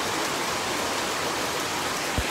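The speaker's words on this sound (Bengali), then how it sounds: "তো সারাদিন থাকি প্রচুর পরিমাণ বৃষ্টি দের।" Heavy rain pours down in Sylhet during flooding, a dense, steady hiss that fills the whole clip with no break and no voices.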